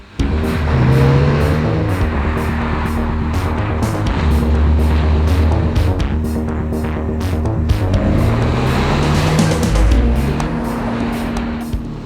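A 2003 BMW M3 convertible accelerates hard, its engine note climbing steadily and then dropping sharply with each quick paddle-shift upshift before rising again, loud and close throughout with no talk.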